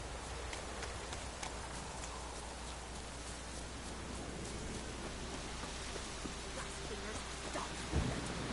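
In The Witcher 3, a thunderclap breaks near the end of a steady heavy rain hiss, a short low rumble rising above the downpour.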